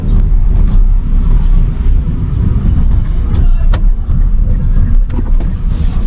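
Manual car engine holding steady at about 2,000 RPM in second gear on a narrow, slightly uphill road, a low continuous rumble heard from inside the cabin with faint road and wind noise, no talking.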